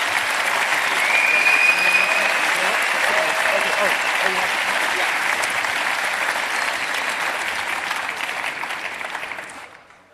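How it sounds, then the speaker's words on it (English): A conference audience at a hacker congress gives sustained applause for a speaker, a dense, even wash of clapping that holds steady for about nine seconds before fading out. "Give him a huge round of applause."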